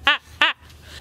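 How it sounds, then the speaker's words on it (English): Two short, bright bird calls close together, loud and near, followed by faint quieter chirps in an otherwise quiet room. "oh my god, birds."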